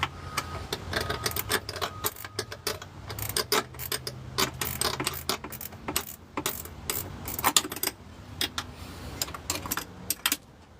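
A ratchet wrench works on engine cylinder heads during a teardown, giving rapid, irregular bursts of sharp metallic clicks, fairly close and moderately loud, with occasional clinks of parts in between.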